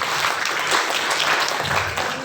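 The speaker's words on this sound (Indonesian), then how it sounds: "Tepuk tangan." An indoor audience at a hotel marketing webinar applauds, a brief, dense wash of many hands clapping together at moderate volume.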